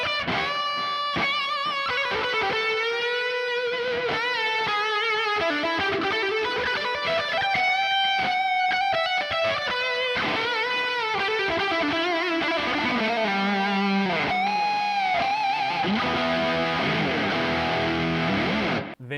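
A Fender American Vintage II '61 Stratocaster plays through its bridge pickup with overdrive, a continuous run of distorted lead lines, bends and chords that stays loud and close throughout without any talking.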